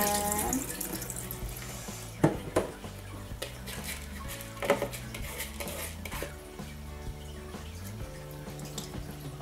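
Soaked glutinous rice is washed in water and drained in a kitchen, with steady sloshing and running water and occasional clinks and knocks of a bowl or utensil close by. No one talks.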